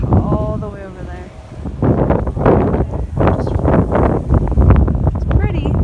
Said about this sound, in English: oh jeez, it's really windy.